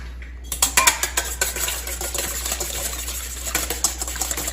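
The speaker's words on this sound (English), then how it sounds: "And we're gonna whisk this egg." An egg being whisked in a bowl, with quick, rhythmic metallic taps and scraping that continue steadily and close up, with no talking.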